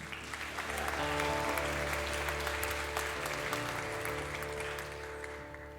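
An audience at the Buried Country concert at Melbourne Festival applauds a singer, steady clapping over a sustained musical drone and hum, moderately loud and easing slightly toward the end.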